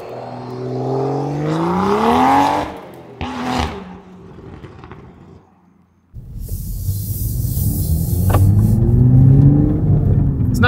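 A 2023 Toyota Supra A90 with a manual gearbox and BMP Tuning: the engine revs up hard and drops off, pauses briefly, then roars back in a sustained, loud accelerating drone.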